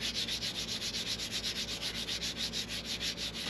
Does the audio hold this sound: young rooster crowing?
no